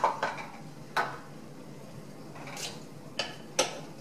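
A spoon scrapes and clinks against a pot while posole is stirred, giving a few sharp metallic knocks and a soft scrape over a quiet background hiss.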